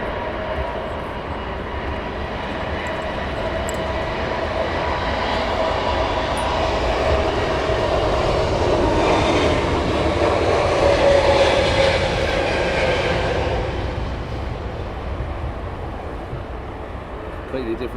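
Aircraft engine roar from a plane at Heathrow Airport, a broad sustained rumble that swells to a peak mid-way and slowly fades, heard steadily throughout.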